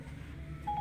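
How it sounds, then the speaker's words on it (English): Phone dialing tones from Apple CarPlay placing a call, a short steady tone appearing near the end over a low in-car hum, fairly quiet. "And it'll actually dial the phone number."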